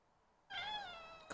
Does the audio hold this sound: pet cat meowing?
yes